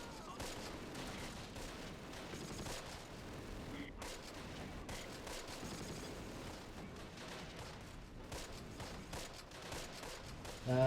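Mortar fire in the World War II strategy game Close Combat: The Longest Day, a dense ongoing barrage of thuds and cracking gunfire layered over a constant battle din.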